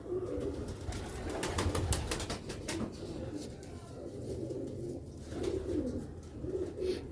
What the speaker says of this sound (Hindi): पंद्रह नंबर कबूतर है 15